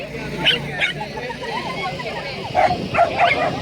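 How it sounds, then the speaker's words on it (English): Small wiener dogs barking and yipping amid a crowded outdoor gathering of many dogs, several short sharp barks standing out over a steady babble of people talking. "There's a lot of little wiener dogs."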